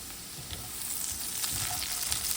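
Onions fry in a pan, destined for doctored-up baked beans, with a continuous close crackling sizzle that swells slightly and has light stirring pops, no talking.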